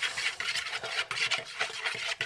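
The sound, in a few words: mixing pancake batter of flour and milk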